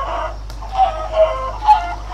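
Chickens in a video game on a multiplayer server cluck in three short, evenly spaced bursts over a steady low hum, close and clear, with no talk.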